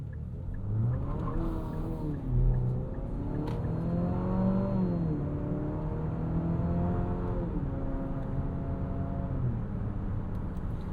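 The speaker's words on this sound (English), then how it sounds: "some of that is piped in engine noise, but most of it is just the engine because it's kind of loud, it's kind of grainy" The turbo engine of a 2027 Infiniti QX65 coupe SUV, heard from inside the cabin, drones loud and grainy as it accelerates, rising and falling in pitch through several gear changes with no talking.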